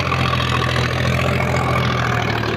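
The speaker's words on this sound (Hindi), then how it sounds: "ट्रैक्टर की आवाज सुन लो" A 50 HP tractor engine hitched to an 11-tine cultivator runs at a steady idle, a close, even low drone and hum that holds constant with no talking.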